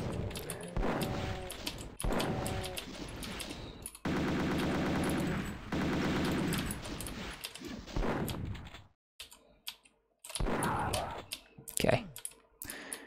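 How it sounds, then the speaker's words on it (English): Gunfire in the video game Deus Vult II, rapid bursts of synthetic shots and clicks in choppy clusters separated by brief silences, with a voice talking intermittently. "Where's that shooting coming from?"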